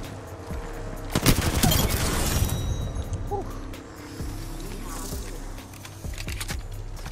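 Rapid gunfire from a firefight in Apex Legends, bursts of shots crackling loudly and then thinning into scattered, sporadic shots over steady game noise.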